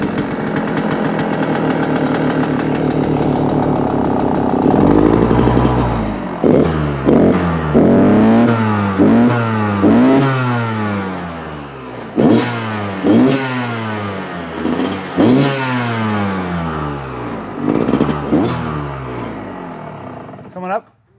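A Kawasaki KX450F dirt bike engine runs with the choke on, idling loud and close before a long series of sharp rising revs and drops in rapid succession.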